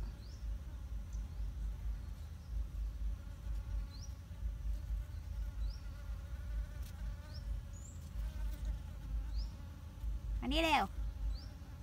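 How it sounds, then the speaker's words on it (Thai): Bees buzz around flowers at a home garden, several close whining hums drifting in and out over a low background, with birds chirping and a brief spoken call. "ดูที่เนี่ยผึ้งเต็มเลยเนี่ยลูกผึ้งมาตอมดอกไม้เต็มเลย"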